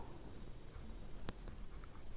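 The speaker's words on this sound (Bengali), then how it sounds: "তাহলে এটা আমরা লিখে ফেলি" Faint scratching of a pen on paper, written by hand while labelling a mitochondria drawing in a biology cell diagram, under a soft steady background hiss with a couple of brief clicks.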